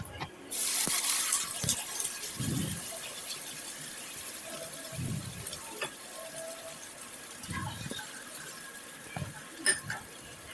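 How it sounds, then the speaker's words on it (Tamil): Ground paste and water poured into a pan of fish salna, a faint steady liquid trickle with a few soft clinks and brief low thumps from the pot, no voices. "இப்போது அரைச்சி வச்ச கலவையை இதில் ஊற்றிக்கோங்க. இது கூடவே தேவையான அளவு தண்ணி சேர்த்து கொதிக்க விடலாம்."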